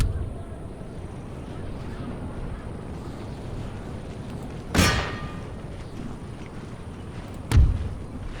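Artillery fires in an Empire Total War battle (Darthmod): two sharp, booming cannon reports a few seconds apart, standing out over a steady low battlefield rumble.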